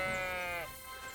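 A single sheep bleats in Kingdom Come: Deliverance II, a short, wavering, nasal cry close by that fades out after about half a second.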